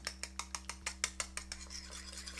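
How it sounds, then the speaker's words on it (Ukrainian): A whisk beating egg and yogurt quickly in a bowl, a run of rapid metallic clicks that softens and blurs toward the end. "Добре розмішуємо вінчиком до однорідного стану"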